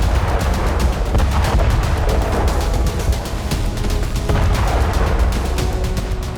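Mortar and artillery fire in Russia–Ukraine war footage form a dense, continuous barrage of loud booms and rapid cracking blasts with heavy low rumble. It is close and sustained with no talk.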